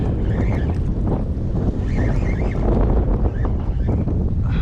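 Strong wind roars steadily across the microphone on a fishing boat out on the water off Long Island, a constant loud buffeting rush with faint wave wash beneath, with no voices.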